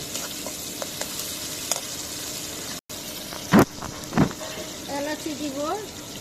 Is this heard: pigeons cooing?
no